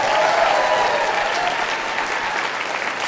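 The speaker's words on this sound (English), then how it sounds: "Come on, I need a bigger applause than that." Church congregation applauding during a sermon, a dense, loud, steady wash of clapping that fades slightly toward the end.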